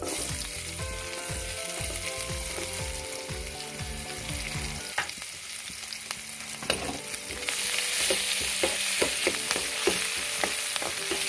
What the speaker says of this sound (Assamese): পিঁয়াজখিনি ৰঙাকৈ ভাজি ল'ব